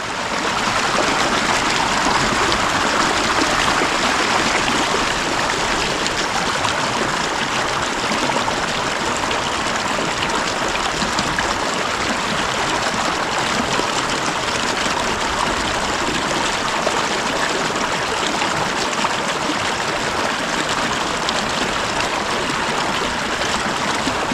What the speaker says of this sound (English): you thoroughly soak and massage the bag underwater